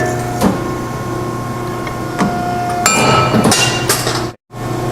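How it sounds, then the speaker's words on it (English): A Scotchman 5014-TM 50-ton hydraulic punch and shear, with a slug-style angle shear of 4x4 by 3/8 capacity, cutting steel angle: a steady machine hum broken by loud metallic clanks and a crunching cut, close by. "It is a slug style angle shear."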